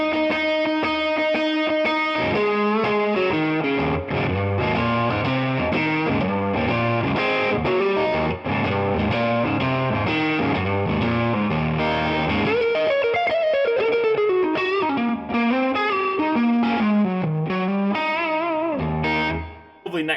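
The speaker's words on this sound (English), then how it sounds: "And if you just roll that tone control down just a tad," A Fender Masterbuilt electric guitar plays a bluesy lead line on the neck pickup with the tone control rolled down, overdriven through a Tube Screamer-style pedal, loud and sustained with rich distortion and reverb.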